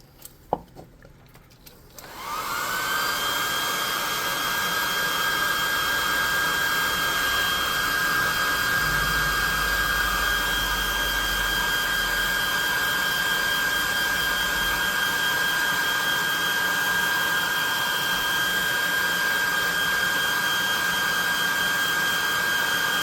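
A hot air gun blows steadily on a painted tabletop miniature, starting after a short clatter and then holding a loud, even whine and rushing hiss with no talk.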